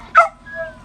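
A single short, sharp dog bark close by, followed by a faint high whine that trails off.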